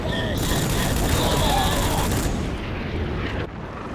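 Dense, loud gunfire in the PlayStation 2 game Rogue Trooper, a sustained fusillade of shots over a noisy battle mix that thins out near the end, with a voice talking faintly underneath.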